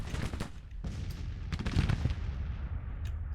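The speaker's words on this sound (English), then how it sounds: "the Union guns on their right flank are causing some havoc on the Confederate lines" Artillery and musket fire rumble and crackle almost nonstop through a Union–Confederate battle in the Grand Tactician strategy game, with heavy low booms and sharp reports layered over a dense continuous din.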